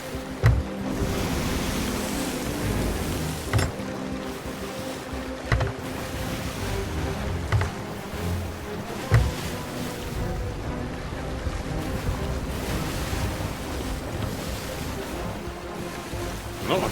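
Stormy ocean in Sea of Thieves: heavy waves roll and crash around a sloop under a steady rushing wash, with periodic thumps of water hitting the hull.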